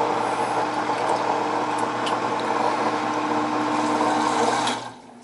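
A condensate pump on an A.C. unit or furnace runs with a steady motor hum and watery churning at close range, then cuts off abruptly just before the end.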